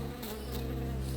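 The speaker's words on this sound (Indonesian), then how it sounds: "ada banyak lebah dan kelelawar di dalamnya. Lebah-lebah menyengatnya" Dense, steady buzzing of a swarm of bees in an animated children's cartoon, continuous and fairly close, with no voices over it.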